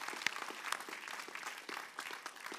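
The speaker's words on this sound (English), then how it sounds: "let's give them a round of applause this morning." A church congregation claps at a Sunday service, a moderate scattered round of applause heard from a distance, fairly quiet, with no talking over it.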